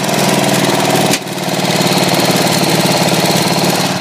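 A tractor engine running loud and close while the machine drives along, a steady mid-pitched throbbing drone with a brief dip as the load changes, then continuing evenly.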